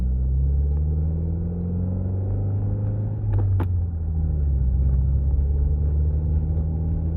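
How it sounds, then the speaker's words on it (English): A deep, throaty Invidia R400 aftermarket exhaust on a 2015 Subaru WRX rumbles up close, dipping briefly and swelling back as the revs shift, steady and loud throughout. "all in all, it's a pretty damn good exhaust."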